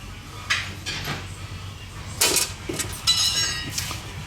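Small parts from a Rekluse clutch slave cylinder rebuild kit are tipped out of their package onto a work surface, making several close, light clinks and rattles at scattered moments.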